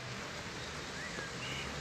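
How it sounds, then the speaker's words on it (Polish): Steady rain hiss fills the whole stretch, a dense even patter with no pauses and no voices. "pada deszcz i może trochę mnie zagłusza."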